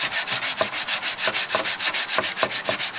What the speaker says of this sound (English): Put your sanding block on it